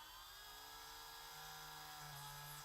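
Dremel rotary tool whining as it drills into a plastic action figure peg, a steady high-pitched buzz held throughout, faint and continuous with a slight pitch dip near the end.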